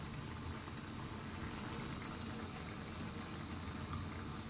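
Water bubbling at a low rolling boil in a pot prepared for sardines and eggs, faint and steady with soft popping bursts scattered throughout.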